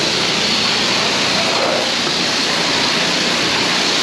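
Water from a hose or pressure spray rinses a Subaru WRX in a steady, loud, broadband hiss that continues unbroken throughout, close up, with no speech.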